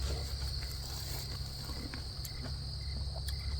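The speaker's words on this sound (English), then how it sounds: "Nice, warm evening. Crickets in the garden." Crickets chirp in a garden on a warm September evening, a steady, faint, continuous trilling with a high whine carrying through, and no voices over it.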